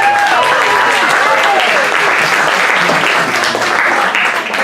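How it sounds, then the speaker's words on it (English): Loud, sustained crowd applause at a gospel magic show, a thick continuous wash of clapping with excited voices calling and talking over it. "You're going to be hearing more applause."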